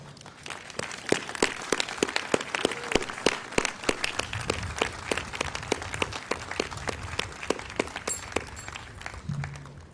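Sustained applause from an outdoor Memorial Day ceremony audience: many hands clapping in a steady, moderately loud wash, with a few sharper individual claps standing out near the listener.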